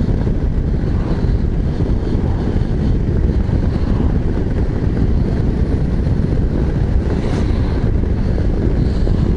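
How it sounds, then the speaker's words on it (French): Strong wind buffets the microphone in a constant low roar, with the muffled hum of a 2024 Harley-Davidson Street Glide 117 motorcycle underneath. "Ah, il y a du vent."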